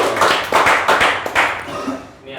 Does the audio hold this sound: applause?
yes